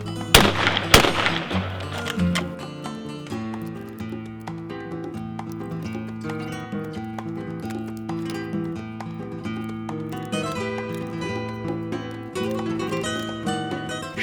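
A 20 gauge shotgun firing a reloaded shell in a hull loaded many times over: a sharp loud blast near the start, a second crack right after, then a long ringing, tonal tail with no talk.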